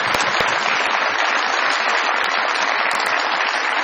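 A studio audience on a Pakistani TV comedy show applauds for guest Javeria Abbasi, dense and loud, with steady clapping filling the room without a break.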